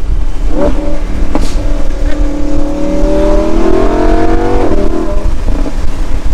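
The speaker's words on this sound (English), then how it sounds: "As far as the sounds, now that we're in Corsa, engine's warmed up" A warmed-up Lamborghini Huracan EVO engine in Corsa mode revs loudly up close, top down, its pitch climbing steadily for several seconds before dropping off, with a crisp, raspy exhaust note.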